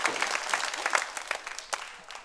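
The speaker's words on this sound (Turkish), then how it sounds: "Büyük bir alkış." A small group applauding, clapping loosely and briskly before tapering off toward the end.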